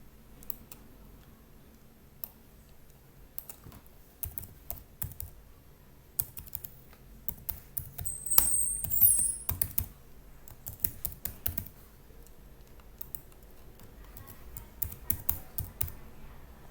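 Keys clatter on a computer keyboard in quick bursts of typing and shortcut presses while building a model in AnyLogic, with short pauses between runs of clicks and a denser flurry midway, close and fairly quiet.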